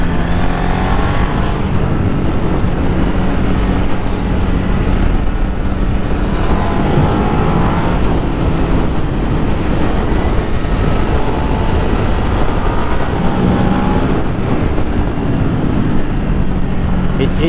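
A 13-year-old Ducati motorcycle is ridden through twisty roads, its engine droning steadily beneath heavy wind rush, with pitch rising and falling as the rider works the throttle.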